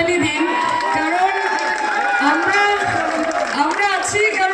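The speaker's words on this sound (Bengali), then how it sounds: "নিজেদের জন্য একটা জোরে হাততালি দিন" A large outdoor crowd at a Durga Puja festival inauguration in Gajol cheers and shouts loudly, a dense, continuous roar of voices with whoops, close and sustained throughout.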